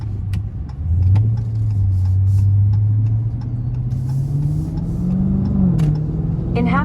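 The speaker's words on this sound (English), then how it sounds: "My car got an active exhaust though, so I put it in sport, really be loud." A Dodge Challenger Scat Pack V8 with active exhaust in sport mode drones loudly up close, its engine note climbing steadily as it accelerates, with brief clicks and a voice joining near the end.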